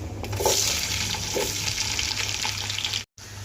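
A kilogram of sliced large onions frying in oil for dhaba-style chicken biryani, giving a steady, loud, close sizzle with no talk, broken by a brief dropout near the end.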